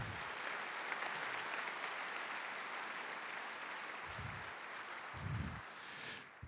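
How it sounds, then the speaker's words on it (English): A crowd applauds the title sponsors at a talk on humans, data and machines, giving sustained, fairly quiet clapping from many hands that holds steady for several seconds, with a few low thumps near the end. "a round of applause for the title sponsors"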